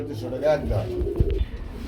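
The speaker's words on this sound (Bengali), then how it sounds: "আজকে আকর্ষণীয় দুই পিস কবুতর দেখাবো" Pigeons at a Bangladeshi pigeon sale give a short burst of low, throaty cooing close by, with faint voices murmuring behind them.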